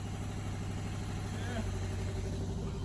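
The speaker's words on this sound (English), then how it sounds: "And it runs good. You could tell it had a lot of fuel in the exhaust." A 1978 Corvette engine runs steadily at idle with a rich, fuel-heavy exhaust, a constant low rumble filling the clip.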